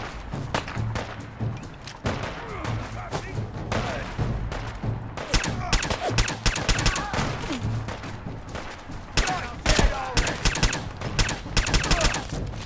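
Gunfire in Fallout 4's Far Harbor expansion, with a silenced pistol among the weapons: a dense run of close, sharp shots and thuds that speeds up into rapid volleys over a steady game background, with no talking.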